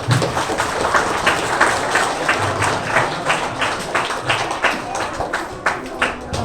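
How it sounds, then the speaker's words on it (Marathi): Audience clapping at a ceremony with a lamp-lighting, held for an exhibition of handwritten letters from world figures; steady applause runs throughout with a few faint low voices underneath. "सर्वांनी टाळ्या वाजवायच्या आहेत."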